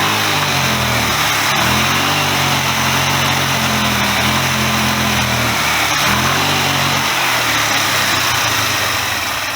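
A rebuilt Chinese GY6 scooter engine drones loud and close, rising and falling through two clear revs amid a steady buzzing, rattly hum with no talking.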